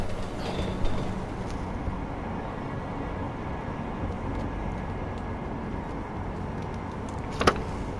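Train ride in the video game Deus Ex: Mankind Divided, a continuous low rumbling rattle of the carriage on the rails, steady and fairly loud, with a brief sharp clank near the end.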